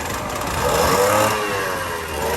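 A Kawasaki KD80X dirt bike engine idling with a recently fixed carburetor and a worn clutch, a loud, steady, buzzy two-stroke drone that swells slightly then settles, heard close up.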